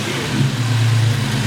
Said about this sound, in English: Rev it a little bit. Do a quick rev.